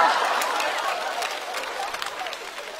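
A mostly female audience at a Chinese stand-up comedy show applauds and screams, a dense wash of clapping and cheering that is loud at first and slowly fades, with no one talking over it.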